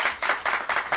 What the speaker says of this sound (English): the table and all the Polish audience clapping him as our last Polish finisher